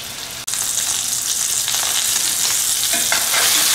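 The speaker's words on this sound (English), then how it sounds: "We want to get a nice sear on both sides." Seasoned steaks sear in a hot pan, a loud, continuous hissing sizzle that flares up suddenly as the meat goes in and stays close and steady without talk.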